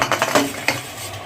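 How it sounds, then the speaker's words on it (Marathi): A pressure cooker of boiled potatoes being opened, with a short burst of metallic clicks and clanks from the lid and pot handled close by, then a soft fading hiss. "आपल्याला हा कुकर खोलायचा आहे"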